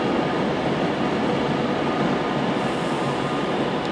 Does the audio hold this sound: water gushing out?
no